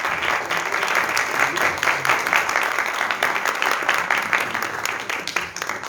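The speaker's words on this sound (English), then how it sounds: "please give him a big round of applause." An audience at a Kathak dance conference bursts into sustained applause as a speaker comes on stage, many hands clapping densely and evenly for several seconds, close and loud.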